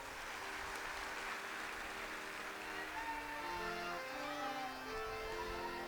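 A religious gathering in Sagar district claps, a broad, dense applause heard steadily from a distance throughout, with no speech over it.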